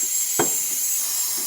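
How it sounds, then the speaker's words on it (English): Steam from a DeLonghi Magnifica espresso machine hisses steadily and loudly throughout, with one short thump partway through. "having excellent steam coming out of the machine"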